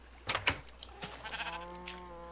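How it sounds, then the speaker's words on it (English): A sheep bleats in the video game Minecraft, a couple of short, close bleats followed by a longer harmonic wavering call, with no talking. "That sheep is going in our house."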